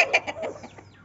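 An Aseel hen gives a quick run of close, fairly loud clucks, several short bursts that fade toward the end with no other sounds.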